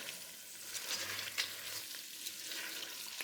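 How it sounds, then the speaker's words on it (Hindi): Steady sizzling and frying close by as mutton fries with garlic-ginger paste for karahi, a dense crackling hiss with faint stirring, continuing without voices. "इसको मैं दोबारा से भून लूँगी, तकरीबन 2 से 3 मिनट के लिए"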